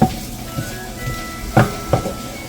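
Goulash ingredients are stirred in a sizzling pot: a steady close frying hiss with a few soft scraping knocks of the spoon, no talk.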